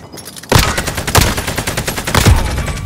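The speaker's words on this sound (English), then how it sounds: "SMG" Submachine gun fire in a video game: a loud, sustained stream of rapid shots that breaks in sharply after a brief quiet moment and keeps going steadily, with heavier reports standing out here and there.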